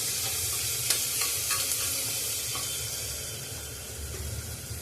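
Onions sizzle and fry in a pan for mutton curry while being stirred until brown, a loud steady crackle with scraping strokes from the spoon, no talk.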